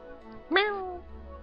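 A single drawn-out, falling meow-like call lasting about half a second, which a person is probably voicing in imitation of a bird that sounds like a cat, rising sharply and then sliding down amid faint background murmur at a card game table.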